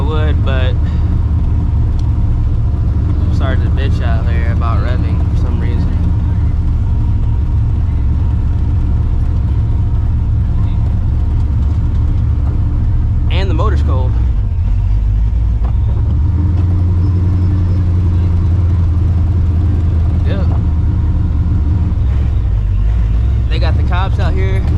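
Straight-piped 600 hp New Edge Mustang GT creeping through city streets, a loud deep burbling idle and low rumble throughout, with brief throttle blips, while the driver talks over it.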